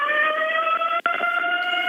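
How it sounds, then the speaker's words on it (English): Loud emergency vehicle sirens wail steadily at an accident scene in Dallas during severe weather, with layered overlapping tones close by and a brief dropout midway. "You can hear the sirens are really going off loud at this point."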